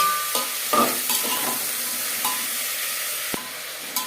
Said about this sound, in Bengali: এখানে আমি 4টে পেঁয়াজ, 2টো টমেটো অ্যাড করলাম, আর দিয়ে দেবো সামান্য পরিমাণে খাঁটির তেল।